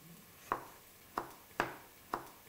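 Several sharp knife chops on a cutting board as a peeled tomato is finely chopped, spaced unevenly, close and fairly quiet with no talking.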